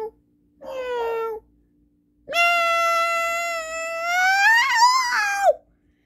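A cat meows twice: first a short, clear meow, then after a pause a long, loud, drawn-out wailing meow that rises in pitch near its end. It sounds close, and no one talks over it.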